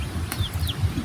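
Faint, thin chirps from young chicks kept with brooding hens at a backyard gamefowl yard, a couple of brief high peeps over low background rumble.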